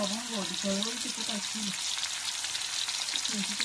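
Cinnamon goes into hot frying oil beside onions, giving a dense, close sizzle throughout. A person speaks briefly at the start and end over the frying.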